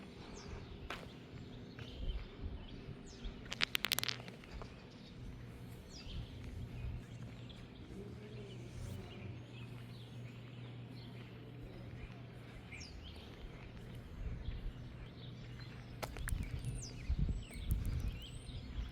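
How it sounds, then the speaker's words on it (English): Faint birdsong drifts through a quiet small town in New Houlka, Mississippi, with scattered chirps over soft ambient background, occasional nearby rustles and footsteps. "I'm hearing the birds, of course"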